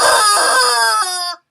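A rooster crows loudly and close in a single drawn-out call that fades and cuts off sharply at the end. No voices are heard.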